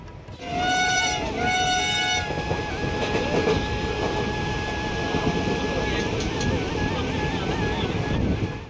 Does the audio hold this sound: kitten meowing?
no